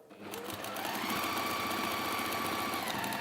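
A sewing machine stitches fabric in a home textile workspace, running steadily and close up with a continuous mechanical whir and rapid needle chatter throughout, no talking.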